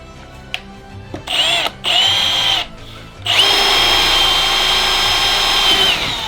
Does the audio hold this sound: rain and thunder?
no